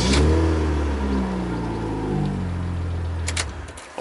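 A car engine fires up with the key after the immobiliser is bypassed, catching at once and revving loudly, then settling to a lower running note, with a couple of sharp clicks near the end.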